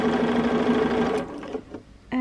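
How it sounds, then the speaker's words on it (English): A Bernina sewing machine stitching fabric runs in a steady, close, rapid whir for about a second and a half, then stops, with a few faint clicks and a brief restart at the end. "line up your fabrics again, and then sew a little bit more."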